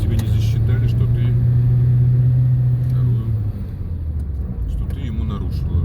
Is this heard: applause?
no